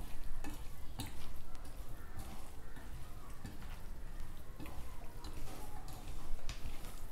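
Raw beef is mixed by hand with spices for Kerala-style beef perattu, a soft, wet, continuous squelching and stirring close up, with faint scattered clicks and no talking.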